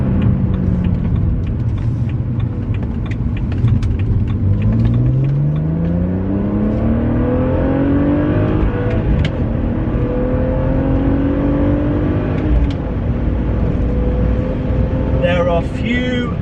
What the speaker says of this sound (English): Few better sounding things in this world than a naturally aspirated straight six BMW engine.